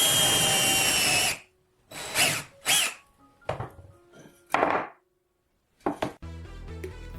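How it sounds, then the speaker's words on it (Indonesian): A power drill whirs loudly for over a second, followed by a few shorter bursts of drilling and some clattering, ending with rattling clanks. "Bor hingga pembatas menyentuh permukaan"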